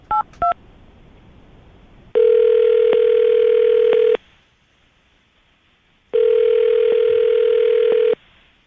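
A telephone keypad gives two quick dialing beeps, then two long, steady tones separated by a silent gap, clear and close with no voices.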